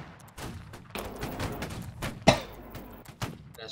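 Volleys of musket fire crack out in the Napoleonic-era line battle game Holdfast: Nations At War, with scattered sharp shots and one loud nearby report among distant popping and battlefield noise.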